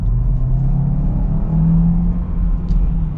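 A 2021 Kia Sorento Hybrid accelerating in automatic mode, heard from inside as a loud, steady engine drone and road rumble whose pitch rises and settles as the transmission shifts.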